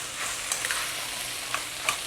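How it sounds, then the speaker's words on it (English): Garlic sautéing in a pan for vegan chili: a steady, soft hiss of frying with faint clicks of stirring, close and quiet, with no voices. "Before adding the tomatoes, I want to saute the garlic."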